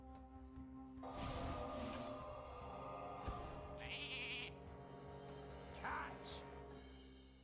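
In Hearthstone, a Polymorph spell turns a card into a sheep, producing a bleat amid magical shimmering, shattering and clinking game effects over a steady background music drone.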